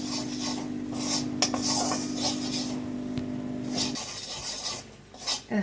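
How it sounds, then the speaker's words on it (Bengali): A spoon scrapes and rubs rhythmically through about three tablespoons of flour frying in a pan for white sauce, a close, continuous rasping stir with a steady hum underneath for the first few seconds. "এটাকে নাড়তে থাকতে হবে যতক্ষণ না লালচে হচ্ছে, আর যেন কোনো লাম্পস না পড়ে।"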